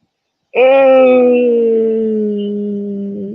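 A single dog lets out one long, loud howl that starts abruptly and holds a steady wavering pitch for nearly three seconds, close to the listener.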